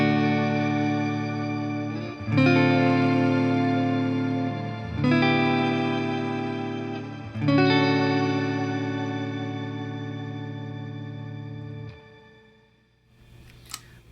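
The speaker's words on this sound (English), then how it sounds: "the shimmer verb in the background, you can hear that pad coming in" Sustained, shimmering guitar chords swell and ring out under a lush, washy reverb with high octave sparkle, changing every few seconds before fading out.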